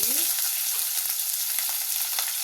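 Peppercorns, shahi jeera and cashews fry in hot oil in a pan, giving a loud, close, continuous hissing sizzle with faint stirring ticks throughout.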